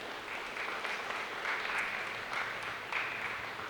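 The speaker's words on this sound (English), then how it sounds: "Let's all clap hands and encourage our seniors." A church congregation at a Sunday service claps for its seniors, producing a soft, steady patter of many hands that continues evenly throughout.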